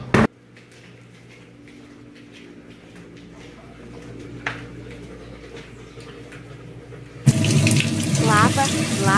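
A chili pepper is rinsed under a running kitchen tap, steady water hiss through most of the clip, growing louder and fuller near the end as the flow splashes harder into the sink.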